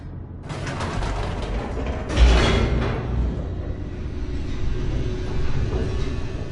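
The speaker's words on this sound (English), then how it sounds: "The elevator raced downward, plummeting towards an unknown fate." An elevator in The Stanley Parable video game rumbles and clanks as it descends, with a loud mechanical rattling burst early on, a louder jolt, then a steady low drone of motion.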